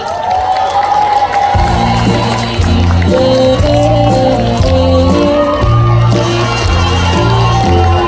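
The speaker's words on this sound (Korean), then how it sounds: "큰 박수 부탁드립니다." A festival crowd at an outdoor stage show cheers and applauds over loud music with a pounding, stepping bass line, the shouts and clapping mixed into the music rather than standing alone.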